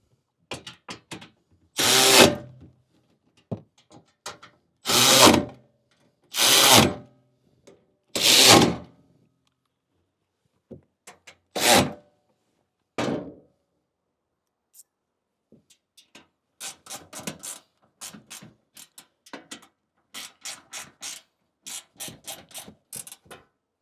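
A ratchet tightening bolts on a Suzuki Jimny JB74 rear floor platform, several loud bursts of rapid clicking separated by pauses, then a run of quicker, fainter clicks, close and with no talk.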